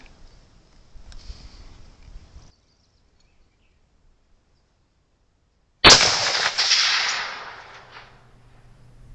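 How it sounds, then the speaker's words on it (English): A single loud .350 Legend rifle shot cracks out on a predator hunt after a quiet pause, followed by a long echoing decay across open ground. "And we're going to take a shot."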